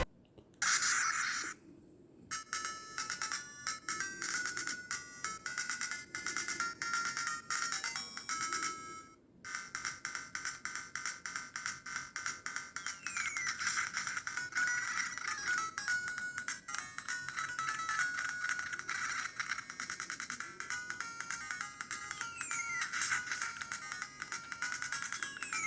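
A Miyoo Mini V4 handheld game console plays bright, chiptune-like electronic music through its small built-in speaker, with a brief pause after a couple of seconds and a short dropout near nine seconds, then continuous tinny melody alone.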